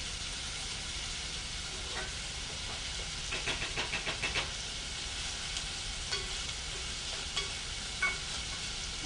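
Food sautéing in oil in a pan while rice and vegetables are being cooked, a steady soft sizzling hiss with faint scattered clicks and stirring scrapes, close and continuous with no talking.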